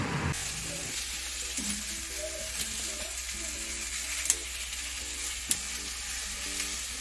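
Okra fries in coconut oil with a steady, moderate sizzle and a couple of sharp clicks, while quiet background music plays throughout.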